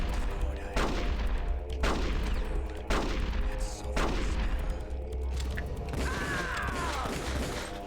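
Gunfire in Metal Gear Solid: The Twin Snakes: four sharp, loud shots land roughly a second apart over a steady low background drone, with faint mechanical clicks between them.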